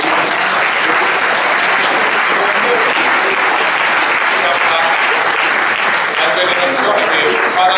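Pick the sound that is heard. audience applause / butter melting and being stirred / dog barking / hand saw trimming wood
audience applause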